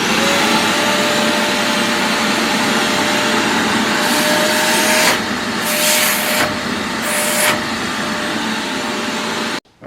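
A Rockler Dust Right two-stage dust collector runs with a loud, steady airy roar that briefly swells and surges a few times before cutting off abruptly at the end.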